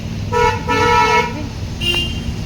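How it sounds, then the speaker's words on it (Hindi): Vehicles roll along a busy road with a steady traffic rumble, while a car horn gives two short toots and then a third, fainter honk, all close and fairly loud with no talking. "कोई तो जा रहे थे, गाड़ियाँ चल रही हैं"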